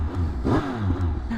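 A 2025 Triumph Speed Triple RS 1200 motorcycle revs close by, its engine note rising and falling in a short burst, loud with no talk over it.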